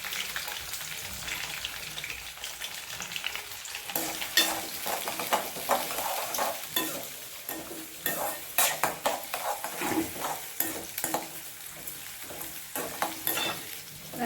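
Sliced onion, a piece of ginger and green chillies sautéing in hot oil in a pan for semiya upma, a steady sizzle under repeated scraping and stirring of a spatula against the metal pan, close and fairly loud.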